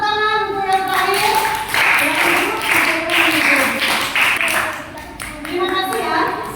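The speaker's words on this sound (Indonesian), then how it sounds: "Silakan tepuk tangan untuk yang terakhir." Students clap in a classroom as a round of applause for the last group, a steady patter of many hands lasting several seconds, with children's voices and chatter mixed through it.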